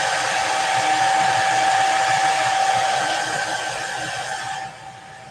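A heat tool blows steadily up close while drying a paper craft tag for a Christmas paper bag wreath sign, a loud, constant whooshing hum that fades slightly and cuts out near the end.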